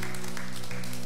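Congregation clapping during a church service, a brief burst of steady applause under sustained, humming keyboard tones.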